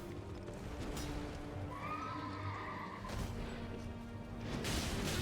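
A horse whinnies loudly in a long, wavering call over a busy background of hoofbeats and Elden Ring game noise during a boss fight in Limegrave.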